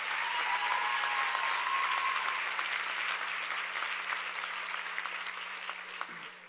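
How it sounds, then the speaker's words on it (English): A large audience applauds at a 2013 commencement, dense sustained clapping that holds steady and then slowly fades. "I think we should all give them a round of applause"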